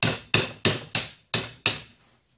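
Six sharp hammer taps on an electric motor during cleaning, struck in a steady rhythm about a third of a second apart, each ringing briefly before the next, close and alone with no talk.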